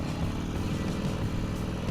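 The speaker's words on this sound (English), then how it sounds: "I don't know if you hear the exhaust" Exhaust from a 2016 Harley-Davidson Roadster motorcycle out on a ride, a steady low rumbling drone that holds close and loud for the whole stretch with no break and no talk over it.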